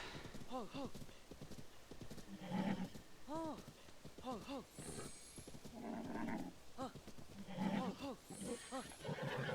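Faint horse whinnies and snorts in a video game, Tears of the Kingdom, rise repeatedly over soft clip-clopping hooves, with a voice talking quietly in between.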